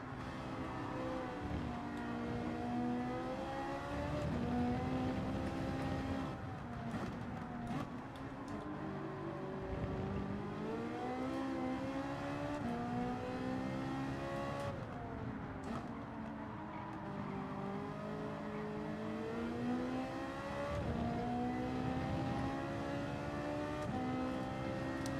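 Ferrari race car engine in Gran Turismo 7, a continuous high-pitched whine that climbs and drops through gear changes as it accelerates and brakes through corners, steady and prominent throughout.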